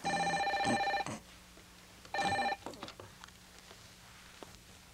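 A telephone rings in two electronic bursts with a pause between, followed by soft handling noises and quiet movement.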